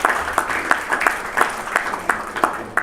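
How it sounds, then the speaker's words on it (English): An audience at an annual health plan trust member meeting claps together, a brief burst of applause with steady overlapping claps in a room. "we all need to give Jay and his staff a big round of applause"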